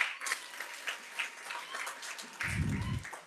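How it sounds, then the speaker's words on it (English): An audience at a graduation ceremony keeps up a steady round of applause with many overlapping claps, moderately quiet, and a brief low thump near the end. "She really deserves another thunderous round of applause."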